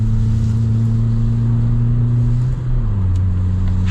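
Fiat Punto Evo on coilovers driving, its engine giving a steady low drone with road noise that shifts pitch near the end as the revs change.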